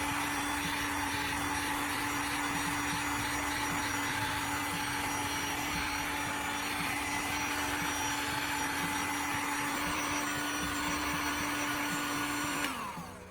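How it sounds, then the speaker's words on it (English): A heat gun blows steadily while softening gray PVC plastic held in pliers, a constant close whooshing roar with a fan whine that runs unbroken before cutting off at the end. "I'll hold it with pliers and use a heat gun to carefully soften and flatten it"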